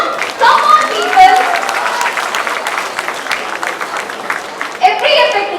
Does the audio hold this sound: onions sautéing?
no